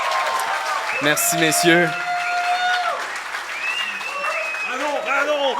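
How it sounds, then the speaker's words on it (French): An audience at a live podcast recording applauds its guests with steady clapping, while a host speaks over it near the mic and a few whistles rise above the crowd. "On peut applaudir, s'il vous plaît"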